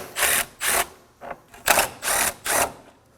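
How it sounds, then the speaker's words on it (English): A power tool spinning out 10mm bolts with a socket on a 2016-2020 Kia Sorento 2.4L during AC condenser replacement, six short loud whirring bursts separated by brief pauses, close by with no talk. "using a 10mm socket, we're going to go ahead and remove these 2 10mm bolts"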